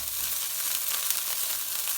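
Garlic chilli fried rice, cooked Indian restaurant style, sizzles steadily and loudly in a hot pan, a continuous close hiss with no voices.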